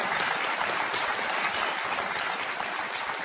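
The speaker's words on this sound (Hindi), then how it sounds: "तालियां बज जाएं इनके लिए।" A studio audience on the Kaun Banega Crorepati game show claps in a dense, steady burst of applause that stays loud throughout, with no speech over it.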